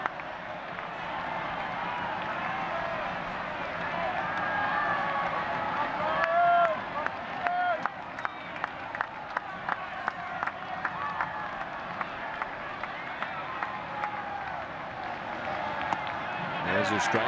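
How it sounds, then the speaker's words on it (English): A Fenway Park baseball crowd murmurs restlessly, with scattered claps, whistles and shouts under a steady stadium hum. Play-by-play commentary runs over it at a moderate distance. "Crowd that is left at Fenway getting a little impatient right now."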